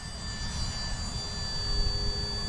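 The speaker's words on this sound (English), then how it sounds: "I have enjoyed test flying this Esky helicopter." An Esky 150EC scale RC helicopter flies without wind, its electric motor and rotor producing a steady high whine with tonal harmonics over a low rumble, continuous and moderately near.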